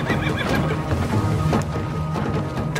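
Horses neigh and whinny loudly while hooves clip-clop steadily, with several animals moving together in a busy, close scene of horses and men travelling through a rocky mountain pass.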